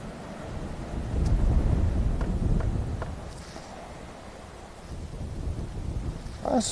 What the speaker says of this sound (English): and it's windy as well.